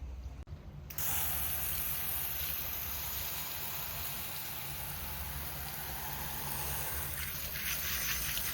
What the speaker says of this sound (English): I'm just gonna hose it off.